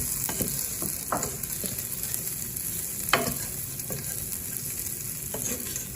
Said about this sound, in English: then stir them, then let them roast a little bit, then stir it